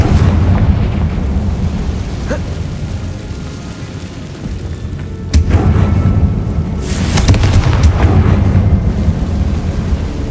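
A Confringo blasting spell in Hogwarts Legacy erupts into a loud, sustained rumbling explosion with crackling bursts and a second swell of debris-like roar.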